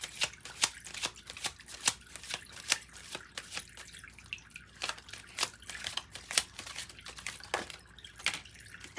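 A deck of Kipler fortune-telling cards is shuffled by hand, producing a close, steady series of crisp riffling snaps and soft flutters.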